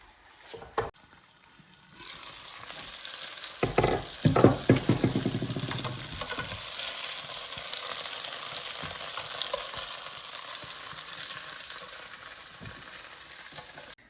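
Food sizzles and crackles in a hot pan, starting with a burst of spattering and settling into a steady hiss.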